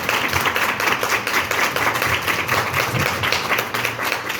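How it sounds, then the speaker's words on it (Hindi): A church congregation claps loudly and steadily together in praise of Jesus, a dense continuous wash of many hands with no pauses. "यीशु मसीह के लिए जोरदार तालियां दें"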